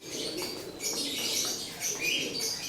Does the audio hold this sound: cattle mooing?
no